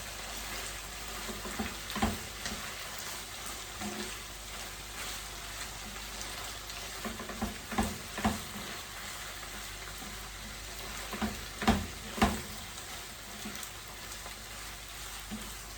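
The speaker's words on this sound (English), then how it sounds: "I'm now going to pour the ackee into the mixture" Ackee frying in a pan with a saltfish mixture, giving a broad, steady hiss like light rain, with occasional soft bumps and clusters of stirring taps, fairly faint and without voices.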